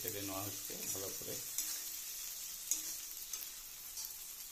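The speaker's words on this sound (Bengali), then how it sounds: "কড়াতে দিয়ে একটু নেড়ে চেড়ে নেওয়া হচ্ছে ভালো করে।" Spinach paste is stirred and fried in a kadai for palak paneer, giving a quiet, even sizzle with a few light stirring taps, and a voice is briefly audible at the start.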